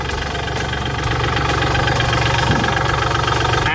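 A used Kubota L3408 DI tractor's diesel engine idles steadily up close, a continuous even chugging rumble with no voices over it.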